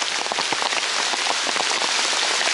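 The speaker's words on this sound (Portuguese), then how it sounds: "o aparelho tá tomando uma chuva nervosa aqui" Heavy rain pours steadily on and around a metal-detecting setup in Vale Indiana, a dense, continuous hiss with close raindrop patter and no voices.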